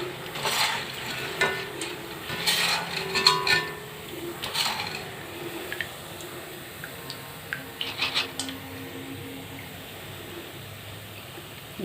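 Cheese nimki pieces frying in hot oil, giving soft intermittent sizzling and crackling bursts with occasional stirring clinks, fairly close and moderately quiet, no talking.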